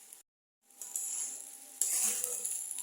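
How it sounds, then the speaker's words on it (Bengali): Rice frying in oil with cashews for pulao, a light sizzle that drops out briefly and then returns louder as the grains are stirred in the pan, close and moderate in level. "চালটা আমি ভালো করে ভেজে নেবো।"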